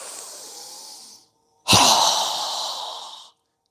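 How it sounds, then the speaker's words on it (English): A single forceful exhale during a yoga breathing exercise, a loud close breathy rush lasting over a second, preceded by a softer drawn-out inhale. "Strong exhale."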